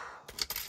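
Coins dropped one after another into a budget envelope box, a few short bright metallic clinks close by in a quiet room.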